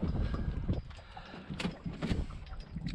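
Gusty wind buffets the microphone beside a creek during late-fall sea trout fishing. Irregular low rumbling bursts rise and fall close up throughout.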